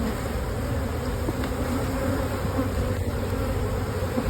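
Honey bees buzz at an open hive during work on paired nucs, a dense, continuous close drone that holds level from start to finish.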